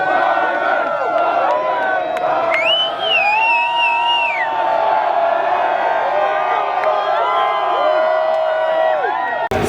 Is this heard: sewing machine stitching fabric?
no